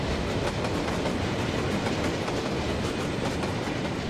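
A freight train hauled by a TY2 steam locomotive, carrying minerals from the Jizera Mountains at Szklarska Poręba Huta station, rolls past with a steady, close, loud rumble and continuous clattering of wheels and wagons, with no talking.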